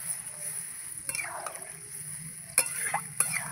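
Pieces of chicken frying in a pan as water is poured in, giving a soft steady sizzle with a few scraping stirs of a spoon, faint and close, with no talking.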